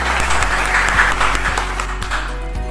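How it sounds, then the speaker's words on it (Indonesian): Participants at the close of a virtual youth religious-guidance session clap for everyone: scattered, moderate hand clapping over a steady low electrical hum, with no talking. "Mari kita beri tepuk tangan untuk kita semua"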